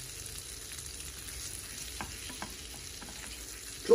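Butter and a little oil melting and sizzling in a pan, a faint, even, continuous hiss with a soft tap or two and a short clunk at the very end.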